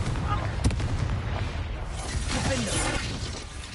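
A Confringo blasting spell explosion in the Hogwarts Legacy video game, a dense crackling burst amid continuous noisy battle sounds at steady loudness.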